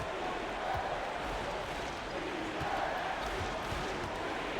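Crowd at a high school basketball game between Plymouth and Santa Ana, a steady broad murmur of many voices trying to build noise, holding even and continuous with a few faint thumps underneath.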